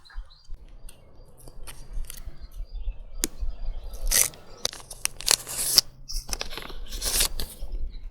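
Paper packets being torn and crinkled open along their edges, a toy surprise packet handled close by with scattered crisp rustles, rips and crunches, no one talking.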